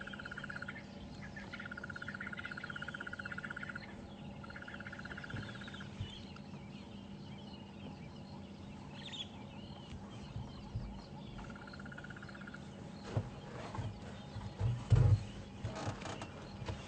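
A crested barbet gives long, sustained trilling calls in several stretches, at a moderate distance, above a low steady background rumble.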